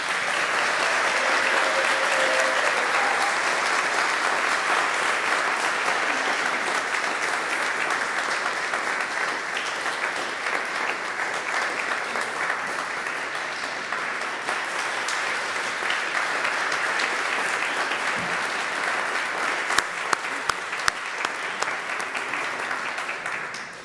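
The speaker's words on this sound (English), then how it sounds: "Let's give them a round of applause." A church congregation at an annual youth worship service applauding, sustained dense clapping that stays loud throughout and thins slightly near the end.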